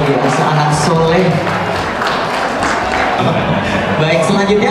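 Crowd applause for a child at a family birthday celebration, steady dense clapping mixed with chatter and voices, loud and close throughout.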